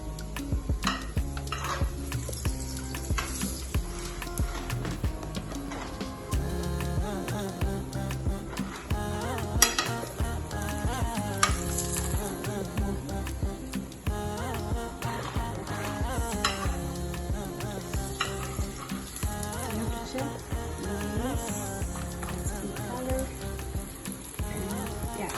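Chapati cooks in oil in a pan, with a soft sizzle beneath frequent metallic scrapes, taps and clinks of utensils against the pan in an irregular rhythm, and a voice speaking intermittently.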